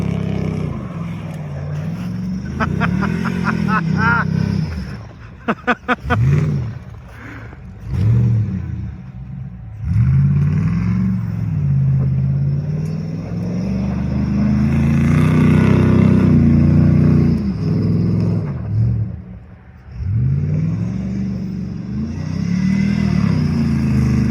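Close, loud revving comes from an all-wheel drive car doing donuts in snow, its engine climbing and dropping in repeated surges with brief dips between them. A few sharp clicks sound early on.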